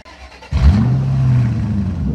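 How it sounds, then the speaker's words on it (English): A car engine cranks and catches with a sharp start, then settles into a steady idle. It is close and loud, heard for an IAC valve test where the valve is not working well. "I'm now going to turn on the car"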